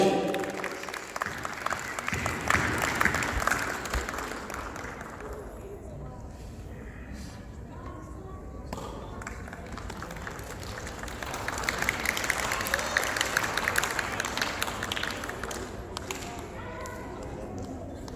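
Applause at a mushaira poetry gathering for Youm e Pakistan swells in two waves of dense clapping from a hall audience, with a host talking through the quieter stretch between them.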